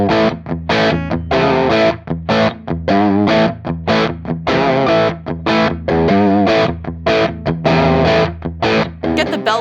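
Electric guitar played through a UAFX Lion 68 Super Lead amp pedal emulating a 100-watt plexi amp, giving a loud, heavily distorted tone of rhythmic chords and riffs that runs continuously with short choppy breaks.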